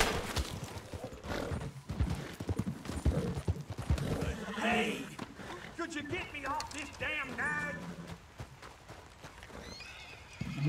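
A horse neighs and whinnies in the Western video game Red Dead Redemption 2, with hooves clip-clopping and game ambience around it, while someone talks over the sounds.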